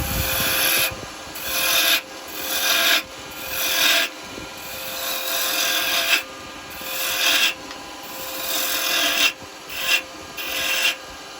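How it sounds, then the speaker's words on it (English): Roughing gouge cutting a wood blank on a lathe while roughing it down in size, a loud rasping, scraping churn in repeated passes of a second or two with brief pauses, no talk. "I'm going to use a roughing gouge first. I'm just going to get it down in size."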